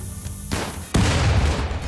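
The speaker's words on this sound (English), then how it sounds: "More other bad people getting shot by turrets" Turrets in RimWorld shooting at enemies: a burst of sharp gunfire pops, then a loud boom at about one second opens into sustained, heavy rumbling fire.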